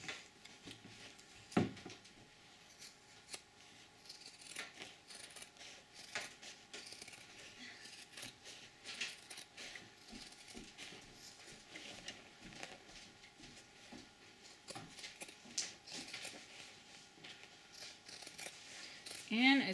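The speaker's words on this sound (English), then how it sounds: "So we're going to just trim off all of this excess." Scissors trim excess canvas from a moccasin upper with faint, repeated snipping and ticking close by, in an otherwise quiet room.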